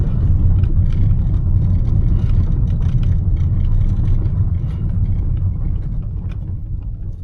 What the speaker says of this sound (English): I'm reversing right now